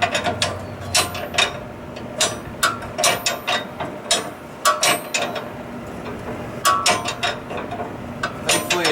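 A ratchet turns a nut off a Ford F150 during a coil spring install, loud close bursts of quick clicking in short repeated strokes separated by brief pauses, with no talking.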